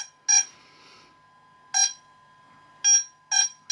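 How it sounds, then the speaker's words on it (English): Four short electronic beep bursts from a DJI Phantom 4 Pro drone's ESCs at irregular intervals, bright and tonal, with a faint steady whine underneath between them. "ESC beeping, that's interesting."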